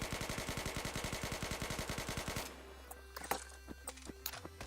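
An M4 rifle fires a rapid, evenly spaced string of loud, close shots with the recoil held under control. The burst runs for about two and a half seconds, then cuts off into a quieter stretch with scattered clatter.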